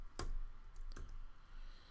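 Computer keyboard typing on an old PC running DOS before Windows 2.03, heard as two sharp clicks about a second apart, fairly close and quiet, with no talking.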